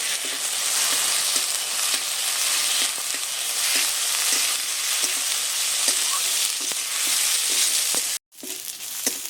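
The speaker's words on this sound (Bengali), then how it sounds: "আদা রসুন বাটাটা দিয়ে বেশ সুন্দর করে আবারও আমি মশলাটাকে দেখুন ভেজে নিয়েছি" Onion masala with ginger-garlic paste fries in a pan, holding a loud, continuous close sizzle with soft scrapes of stirring throughout and a brief gap near the end, with no voices.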